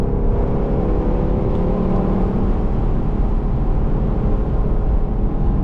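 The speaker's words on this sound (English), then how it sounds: "And just listen to this engine howl." A Lexus LC500's loud, sustained engine roar holding at a high pitch, droning steadily throughout with a whirring edge and no voices.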